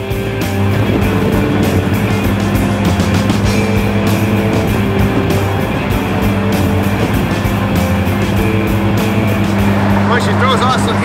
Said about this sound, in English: As we got back on the California freeway, I couldn't believe the awesome power in this 1924 Bentley.